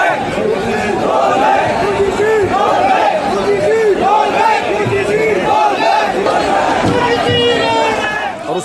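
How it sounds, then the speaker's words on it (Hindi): A protest crowd at Jantar Mantar against reservations and UGC rules chants slogans in loud, rhythmic unison, with many voices shouting together in repeated bursts throughout. "और उसके बाद फिर नारेबाजी शुरू हुई।"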